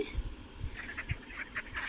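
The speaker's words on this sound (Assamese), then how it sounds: "এইবোৰ বৌয়ে হাঁহ পুহিছে" Several short quacks from domestic ducks at a village home, fairly faint, spaced irregularly over low background noise.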